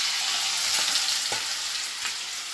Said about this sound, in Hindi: जैसे ये प्याज है इसको गोल्डन ब्राउन आपको कर लेना है, एकदम गोल्डन सुनहरा भूरा एकदम पूरा फ्राई